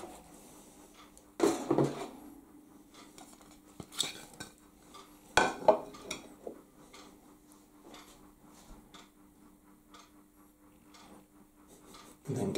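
A spoon clinks and scrapes against a pot while redcurrant jelly is stirred into game pie filling, with scattered metallic knocks and taps over a quiet background.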